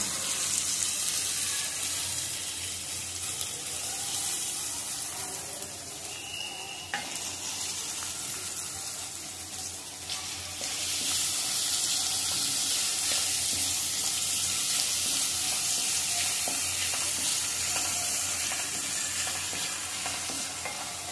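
Onion sizzling and frying in a pan while being stirred, a steady close hiss with scraping stir noises throughout, no talking.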